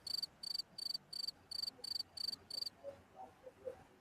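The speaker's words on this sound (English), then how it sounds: "It's a cricket noise." Cricket chirping in a quick, regular series of bright trilled pulses, about eight evenly spaced chirps, clear and fairly close, then fading into a few faint softer sounds against a quiet background with no talking.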